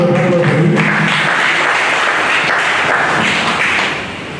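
Loud sustained applause at a pre-retirement workshop as a professor is introduced, a full room clapping steadily before tapering slightly at the end, with a faint tone briefly audible at the start.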